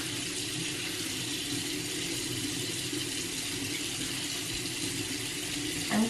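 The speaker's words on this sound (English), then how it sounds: "I need to wash my face and do all the things before I go get my coffee." Tap water runs steadily into a bathroom sink during a morning face wash, a constant close hiss with no talking.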